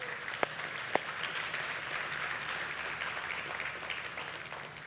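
An audience at a community talk claps, a fairly soft but steady wash of applause with a couple of sharp, close individual claps near the start.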